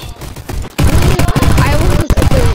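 Rapid gunfire bursts in the Bad Business video game, loud and close, starting after a quieter moment and continuing in dense volleys with short breaks.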